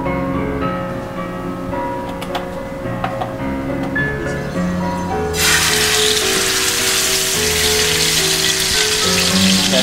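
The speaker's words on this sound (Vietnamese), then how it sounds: "Và bây giờ mình sẽ đi ép chảo nó." Beef for a beef Wellington hits a hot oiled pan and bursts into a loud, steady hissing sizzle that holds continuously after a quieter start with music underneath.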